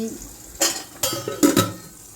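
Slices of raw plantain fry in a pan with a soft steady sizzle, broken by a few close scrapes and stirs of a utensil against the pan.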